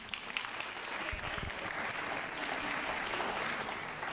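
An audience applauds at a Board of Education meeting. The clapping is steady and sustained, fairly faint and distant, and fills the room for several seconds.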